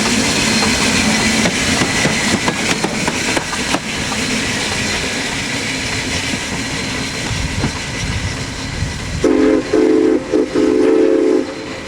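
A steam locomotive on the Niles Canyon Railway chuffs and hisses loudly as it moves along the track, and its steam whistle blows several times near the end.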